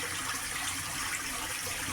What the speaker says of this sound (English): we have some water coming from this